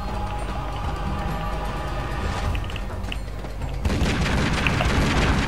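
Video game Tomb Raider Legend grenade explosions: a dense rumbling blast texture with booming low end runs throughout, then a sharper, louder burst of crackling debris erupts near the end, no voices over it.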